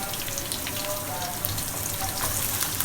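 Finely chopped garlic and ginger fry in oil with an even, dense hiss of sizzling. It stays steady and close throughout, with no talking over it.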